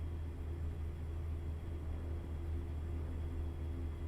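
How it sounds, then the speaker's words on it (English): A low, steady truck engine in American Truck Simulator drones evenly throughout, a deep rumble with no change in pace. "I really like the sound of this truck."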